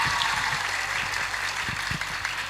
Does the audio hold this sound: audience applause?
yes